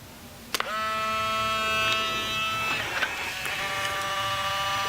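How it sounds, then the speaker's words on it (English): Fujifilm Instax Mini 90 instant camera: a sharp shutter click, then a motorized whirring buzz as the print ejects, steady for several seconds, close and alone. "I'm just gonna snap a super quick photo of this. You'll hear it click."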